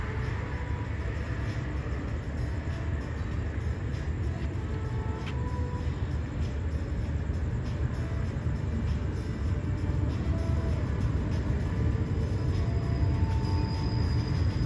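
Rapid train 133 from Bangkok to Nong Khai pulls into platform 1 at Bang Sue junction station, a steady, sustained rumble of rolling railcars and wheels on track that holds at an even level throughout, with no voices.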